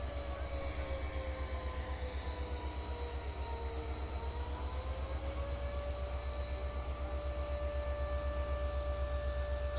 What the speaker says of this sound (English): Satrakta Express container train is being flagged off by Member Traffic and Secretary to Government of India, Shri Girish Pillai.